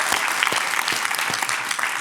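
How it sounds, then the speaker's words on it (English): A conference audience gives a round of applause, sustained crowd clapping at a moderate level that holds evenly across the whole stretch with individual claps poking through. "Let's give a big round of applause."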